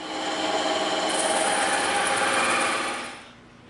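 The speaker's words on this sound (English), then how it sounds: "Could not have been done without the bandsaw." A bandsaw cutting EVA foam gives a steady, loud whine with a harsh mechanical buzz, running continuously, then tapering off in the final half second as the cut ends.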